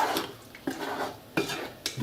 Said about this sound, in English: And you're going to give it a nice stir yet again.